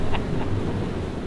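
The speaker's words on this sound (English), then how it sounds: "here's one of those gusts" A gust of wind buffets the microphone outdoors, making a low, steady rumbling roar for a second or so with no voices.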